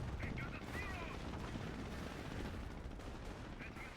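Mortar auto-firing in a strategy video game battle, heard as a dense continuous barrage of gunfire and explosions with steady loud rumble throughout, a few brief tonal game effects over the top.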